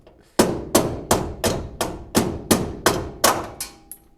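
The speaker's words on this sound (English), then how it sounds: "There's a hammer over there. Yeah, I was just looking for something I can hit it with." Hammer striking a metal part while working on a drift Toyota Tacoma turbo setup: about ten sharp, evenly spaced ringing blows in a steady rhythm, loud and close.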